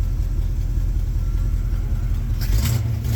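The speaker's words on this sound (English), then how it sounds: "Crank her up, rev her up." A 1986 GMC Sierra C10 pickup truck engine, started for the first time in five years, runs with a steady rumble and then swells into a short rev near the end, with no voices.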